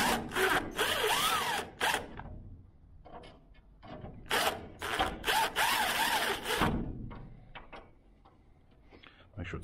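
A power drill drives old screws into a sliding door lock body, in several loud bursts separated by short pauses, with a voice speaking between them.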